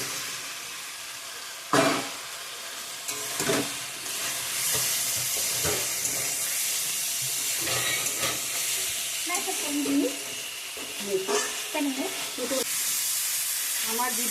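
Fried cauliflower, potato and paneer are added to spiced oil in a pan for a Bengali vegetarian curry, giving a bright steady sizzle with hissing steam, broken by stirring scrapes and a few clanks.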